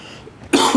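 A single short, sharp cough rings out close by after a quiet moment.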